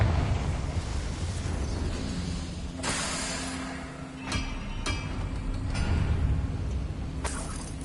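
Blasting-spell explosions in Hogwarts Legacy erupt as several sharp broadband bursts over a dense, rumbling game soundscape, with the loudest blasts near the three- and five-second marks and another near the end.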